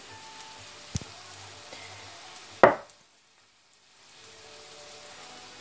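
Ginger hits a hot pan with a loud crackling burst of sizzling, preceded by a couple of faint clicks, then drops to near silence before a soft frying hiss returns.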